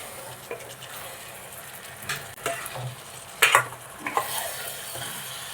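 Masala fries in a steel pot and is stirred by hand. A soft, steady sizzle runs underneath, and a few scraping and knocking strokes of the spoon against the metal rise sharply above it.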